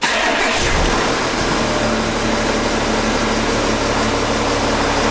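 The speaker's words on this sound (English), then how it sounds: "Looks like I'm going to have to start the engine for seat heating." A Porsche engine starts with a brief crank, then settles into a loud, steady running drone that continues unbroken to the end.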